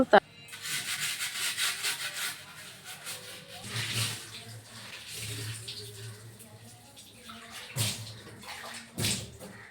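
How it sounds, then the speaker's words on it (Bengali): Dishes from a large pile being washed by hand, with close scrubbing and rubbing, running water and occasional clinks of utensils, and someone speaking over parts of it. "এই যে বাসন দেখো, এতটা এতটা বাসন হয়েছে, এগুলি এখন সব পরিষ্কার করবো"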